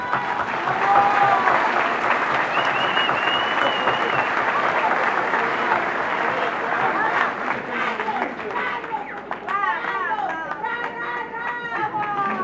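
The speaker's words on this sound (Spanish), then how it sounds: "les voy a dar un aplauso de gratitud con el corazón" Crowd applause of gratitude at a gathering, sustained dense clapping with cheering and chatter, loud and continuous, with voices rising above it toward the end.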